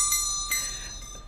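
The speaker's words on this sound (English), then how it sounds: "I will ring this bell." Hand bell rung during a play reading: two bright metallic strikes with a lingering high ringing tone, close and clear, and no voices.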